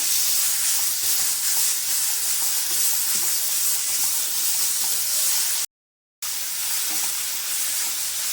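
Chopped ingredients for mango rice (chitranna) sautéing in a hot pan, a steady sizzling hiss with soft stirring scrapes, interrupted by a short silent gap before the frying resumes; no voices.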